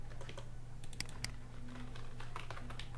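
A computer keyboard is tapped in bursts of quick, close clicks over a steady low electrical hum, with brief pauses between runs of keystrokes and no speech.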